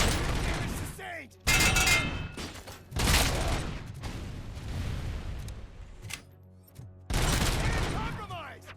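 Gunfire in RoboCop: Rogue City, loud bursts of shots and impacts in several separate volleys with brief pauses between them, mixed with voices in a firefight.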